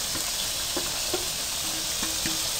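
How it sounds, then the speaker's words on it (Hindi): Potatoes, peas and carrots fry in oily masala, a steady close sizzle with a few light stirring taps. "आपने तकरीबन 5 मिनट तक इनको भून लेना है।"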